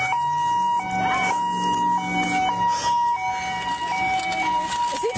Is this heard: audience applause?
no